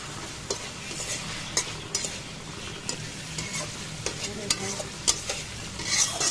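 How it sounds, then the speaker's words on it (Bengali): Bitter gourd stir-frying in oil, a steady crackling sizzle broken by repeated clinks and scrapes of a spatula against the pan, close and moderately loud with no voices. "এখন উচ্ছেগুলো দিয়ে দিলাম। এখন এগুলো ভালো করে কষিয়ে নেব।"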